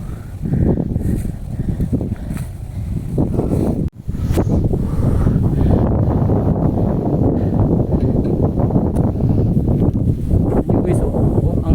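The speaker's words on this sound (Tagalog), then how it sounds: "Hangin guys, narinig nyo ba yan?" Strong wind roars and buffets the microphone steadily, with a brief drop near the four-second mark, then continuous gusting rumble to the end.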